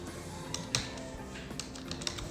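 Light typing on a computer keyboard while entering Excel VBA code, with soft, scattered key taps at a moderate distance and low level.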